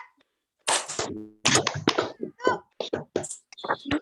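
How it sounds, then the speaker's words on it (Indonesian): A class of students claps three times in a quick group rhythm, the sharp claps mixed in with children chattering loudly nearby. "Tepuk tiga."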